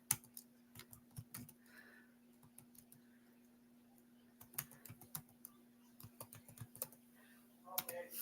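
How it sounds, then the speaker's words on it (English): Computer keyboard typing in short irregular bursts of crisp clicks, close and moderately loud, with pauses between runs while entering a chat message. "I'm typing it in the chat."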